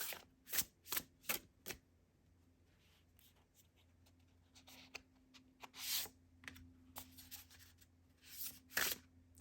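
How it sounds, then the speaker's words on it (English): Tarot cards drawn one by one from a deck during a Celtic Cross reading: a run of soft, crisp card slaps and slides, several quick ones in a row, then scattered quieter flicks and shuffling rustles close by, with no voices. "We're going to take 2 more cards from this deck"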